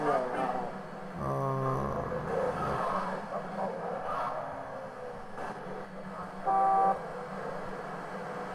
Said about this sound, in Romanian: să o claxonăm ca să iasă afară